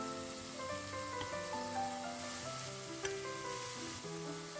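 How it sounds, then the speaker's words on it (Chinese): Potato pieces fry in oil in a pan with garlic and chopped scallion on an induction cooktop, giving a steady, close sizzle throughout with a melodic background tune underneath and no talking. "然后倒入土豆，把土豆摊平，让每一块土豆都能接触到油"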